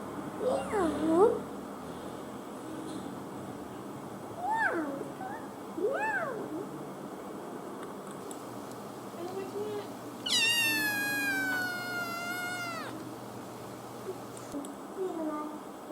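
Voices imitate a cat's meow in short rising-and-falling cries between spoken words, with one longer, higher drawn-out meow in the middle, all fairly quiet over light background noise.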